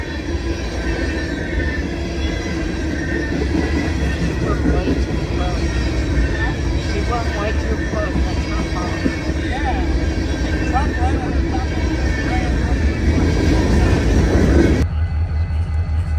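A train roars past close by with a continuous heavy rumble and clattering wheels, loud throughout before cutting off abruptly.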